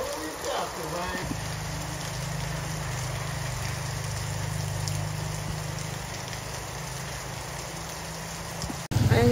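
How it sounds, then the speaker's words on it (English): Steady storm rain on Guimaras island, Philippines, hisses continuously over a low drone, with faint indistinct voices in the background and a brief knock at the end. "it's rainy Friday"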